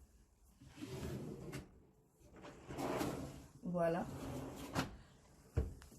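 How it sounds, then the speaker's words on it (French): Hotel suite drawers being opened and closed during a housekeeping check, several wooden slides and soft thuds close by, mixed with someone talking in French. "Nous vérifions ici aussi les tiroirs."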